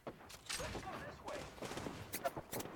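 Single-fire shots from a Hemlock rifle in an Apex Legends match, a handful of sharp cracks spaced irregularly over busy game noise, with a voice talking over them.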